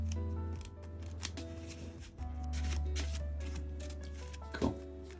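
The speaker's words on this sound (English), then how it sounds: "and then we'll shuffle" A deck of Marvel Champions cards is shuffled close up in a few quick riffling bursts with short crisp snaps between them, over a steady low background hum, with no speech.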